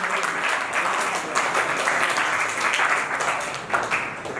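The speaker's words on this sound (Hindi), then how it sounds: "आप सब लोग तालियों से जो अभिनंदन करें, स्वागत करें।" An audience at a Swami Dayanand Saraswati birth-anniversary seminar claps in sustained, dense applause, loud and steady throughout.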